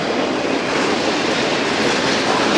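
A Norfolk Southern freight train passes northbound near the Northumberland yard, a loud, dense, continuous rumble and rush of rolling cars close by, with no voices.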